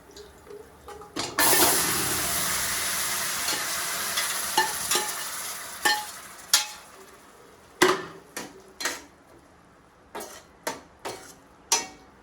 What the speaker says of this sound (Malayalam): ഈ തയ്യാറാക്കിയിരിക്കുന്ന വെച്ചിരിക്കുന്ന ബീഫ് നമുക്ക് ഇതിലേക്ക് ചേർക്കാം